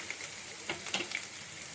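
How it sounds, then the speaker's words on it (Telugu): Ginger and seasoning seeds frying in a pan for coconut burji, a soft steady crackle and sizzle with a few sharper pops near the middle, close and fairly quiet, with no voices. "ఒక 1 మినిట్ ఇలాగే కొంచెం పోపు గింజలు అల్లము వేగే వరకు ఇలాగే ఫ్రై చేసుకుందాము."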